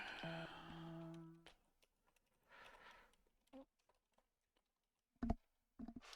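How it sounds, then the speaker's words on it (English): Keyboard clatter in a digital card game, a short burst of key clicks after a synthesized chime, followed by scattered isolated taps and a few sharper clicks spread over several seconds. "Ah, keyboard."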